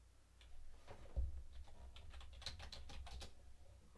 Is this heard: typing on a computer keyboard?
yes